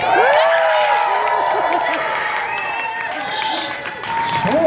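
A crowd at a lip sync battle cheers, whoops and applauds loudly, with shrill voices rising over steady clapping throughout.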